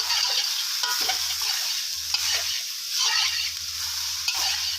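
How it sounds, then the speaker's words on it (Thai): Minced pork for spicy basil stir-fry being stir-fried dry in a pan, a constant loud hissing sizzle with a few soft scraping strokes of the spatula, close up, no one speaking. "แล้วก็ลวนไปเรื่อยๆนะครับ ให้แห้งสนิทเลยนะครับ"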